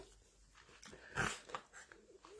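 Dogs making a short burst of low whimpering and breathing sounds close by, with a louder yelp-like peak in the middle and quieter rustling around it.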